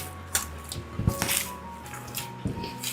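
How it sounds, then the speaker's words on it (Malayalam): Steamed jackfruit and banana dough is kneaded by hand with ghee, giving soft, wet squishing and slapping sounds in irregular bursts, close and fairly quiet with no talk. "കുറച്ച് നെയ്യും കൂടെ ഒഴിച്ചിട്ട് കൈ വെച്ചിട്ട് നന്നായിട്ടൊന്ന് കുഴച്ചെടുക്കാം"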